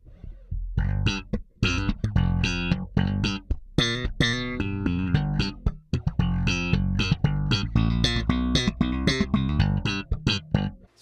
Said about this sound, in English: Next is as a filter or envelope filter. It's like an automatic wah.